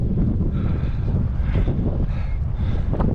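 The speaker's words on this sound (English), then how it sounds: "It's a wee bit windy" Strong gusts buffet the microphone on the exposed summit of Ben Tulloch in the Scottish hills, a continuous low roaring rumble with surging pulses and no voices.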